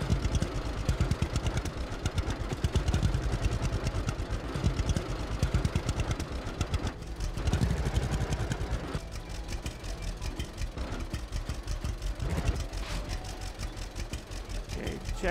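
A tractor engine idles in the Lumberjack Dynasty video game, a continuous rattling mid-pitched rumble with rapid regular pulses, fairly loud and close throughout with no talking.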